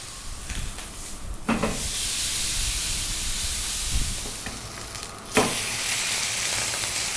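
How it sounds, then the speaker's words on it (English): The fat edge of a T-bone steak rendering in a hot pan, a continuous close sizzle with a few louder bursts and knocks as the steak is held on its side. "cooking that side fat there."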